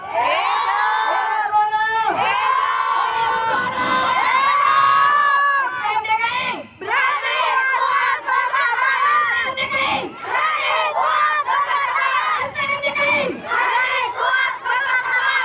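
A large crowd at a labour rally roars with cheers, whoops and shouts for several seconds, with a brief dip before the noise surges again. The clamour is loud and close, and voices call out through it.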